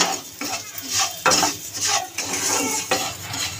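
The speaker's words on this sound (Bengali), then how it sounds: "নেড়ে ছেড়ে ডালিয়াটাকে হালকা লাল লাল ভেজে নেব।" Dalia fries in hot ghee as a spatula scrapes and stirs it around a pan, a run of rhythmic metallic strokes over a light sizzle, close and without talk.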